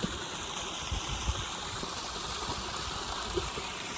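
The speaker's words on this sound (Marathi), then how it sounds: "बघू शकता छोटासा धबधबा आहे" A small waterfall in a rural wooded spot gives a steady, faint rushing wash of falling water that stays even throughout, with no voices.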